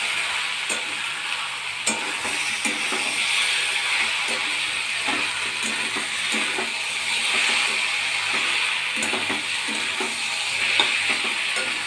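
Vegetables fry with spices in a pan for a potato, pointed gourd and chhana dish. A constant bright sizzle runs throughout, broken by repeated scraping stirs and light utensil knocks, close and without talk.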